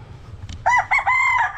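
A six-month-old young gamecock stag crows once, loud and close, a short rising call with a sustained, wavering tail over faint background noise.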